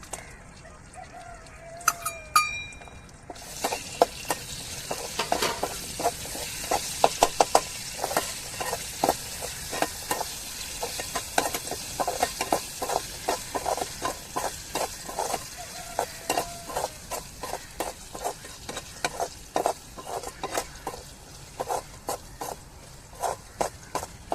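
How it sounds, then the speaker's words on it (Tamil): Cashew nuts roasting in ghee in a pan on the stove, a steady crackling sizzle with repeated scraping stirs throughout, close and moderately loud, with no talking. "இப்போ முந்திரி பருப்பை நம்ம நெய்யிலேயே வறுத்து எடுத்துக்கிடுவோம்"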